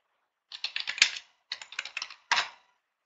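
Keys clatter on a computer keyboard in three quick bursts of crisp taps separated by short pauses, close and clear over silence, the last burst ending with a single firmer stroke.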